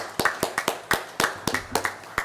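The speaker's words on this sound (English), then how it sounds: "Please give them another round of applause" Applause for newly elected council members at a city council meeting, a handful of sharp, separate claps from a small group, sparse and slightly uneven, heard close in a quiet room.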